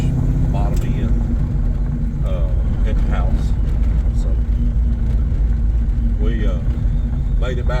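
A supercharged 1995 Ford Mustang GT V8 idling: a loud, steady low rumble running throughout, close by, with someone talking over it.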